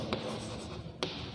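Chalk or marker scratching on a board during a biology lesson, close and continuous, with a couple of sharp taps as strokes begin.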